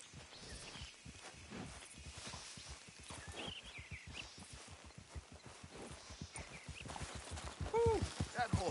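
Horse hooves clip-clop steadily in Red Dead Redemption 2, a quick regular walking beat on ground, close and moderately loud, with a brief whinny near the end.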